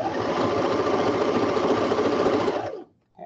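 A sewing machine stitches fabric for a dog cape in one continuous, even whirring run, then stops abruptly, followed by a brief faint click.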